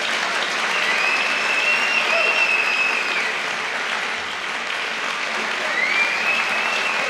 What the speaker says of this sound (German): ich denke, das ist einen Applaus wert